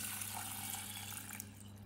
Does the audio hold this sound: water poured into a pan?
yes